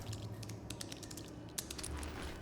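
In The Division, fingers tap rapidly on a computer keyboard, a quiet run of crisp clicks over a low game hum, with no voices.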